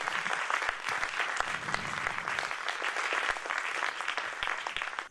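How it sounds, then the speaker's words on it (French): An audience at a stage show applauds in a dense, steady burst of many hands clapping, sustained and even for about five seconds with no speech over it. "Arthur qui faisait la capta, vous pouvez l'applaudir aussi, Arthur, là, qui faisait la captation."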